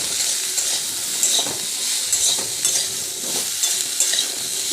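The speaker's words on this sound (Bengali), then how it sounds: "এবার ফুলকপিগুলো নেড়ে চেড়ে ঢাকা দিয়ে দেব।" Cauliflower pieces being stirred and fried in a pan, a continuous bright sizzle with repeated scraping stirs and faint clinks, close and fairly loud with no talking.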